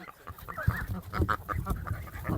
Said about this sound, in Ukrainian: минулорічна гуска теж тут буде